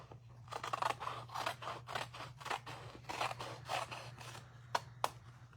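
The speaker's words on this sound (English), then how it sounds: "I'm just going to cut these in rows," Scissors cutting fabric into rows, sounding as a close series of crisp snipping strokes in a quick, fairly regular rhythm, with a low steady hum behind and no talk.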